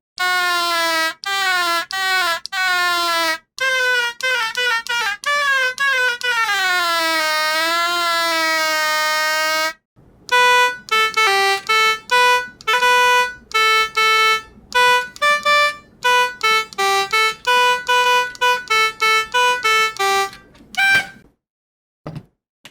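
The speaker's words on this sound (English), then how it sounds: "Here's a continuous sawtooth." Gravitone synthesizer playing sustained sawtooth tones, bright and buzzy, with sliding pitch sweeps and then a run of clipped, stepped notes, loud and alone.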